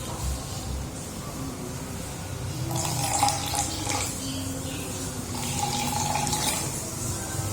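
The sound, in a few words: pouring bougainvillea flower extract into water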